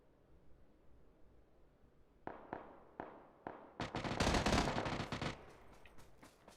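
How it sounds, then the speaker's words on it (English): Gunfire in the first-person shooter Doom Eternal: four sharp separate shots, then a dense rapid burst of loud firing, with a few trailing shots afterward, close and prominent. "I was waiting on him to pop out, but gunshots gave him away."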